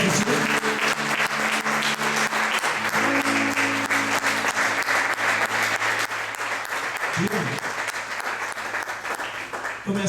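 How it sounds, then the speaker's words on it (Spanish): A church congregation claps loudly and steadily during a Spanish-language worship service, with sustained crowd applause over a held musical tone, and a voice speaks briefly partway through. "Demos un aplauso fuerte a Jesús."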